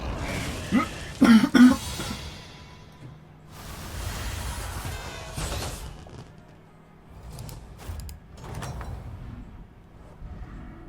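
A few sharp coughs early on, followed by quieter shuffling and faint background noise with occasional soft thumps.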